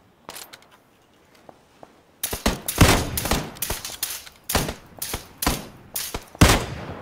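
Gunfire in PlayerUnknown's Battlegrounds: after a quiet stretch of faint shuffling, loud, close rifle shots crack out in irregular bursts, one or a few rounds at a time, for about five seconds.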